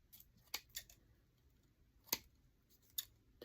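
Scissors snipping extra material off a handmade floral shelf sitter, a few sharp, close, quiet cuts spaced irregularly over a hushed background.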